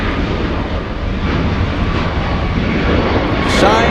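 A JetBlue airliner roars at LAX airport, a loud, steady broadband engine rumble that stays close and constant throughout, with a brief higher-pitched whine near the end.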